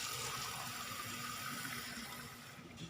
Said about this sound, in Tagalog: lalagyan pa natin ng water